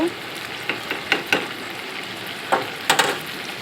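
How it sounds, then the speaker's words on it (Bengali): Sauce is stirred into restaurant-style chilli chicken in a hot pan: a low, steady sizzle with several sharp scraping strokes of a spoon, close up and without voices. "সসটা ভালোভাবে নেড়ে চেড়ে এর মধ্যে মিশিয়ে নিতে হবে।"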